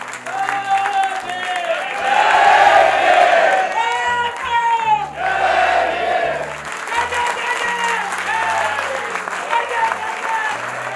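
An audience standing at a song release event for a track about Baba Saheb's struggle claps loudly and chants slogans, the crowd swelling into strong applause with rhythmic shouted chants that persist throughout.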